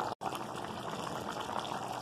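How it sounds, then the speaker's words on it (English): Water is added to a curry in a pot for a cup fish dish, and it bubbles and simmers with a steady, soft liquid hiss and gurgle at close range, with no talking. "Now I am adding here water and cook it for few minutes."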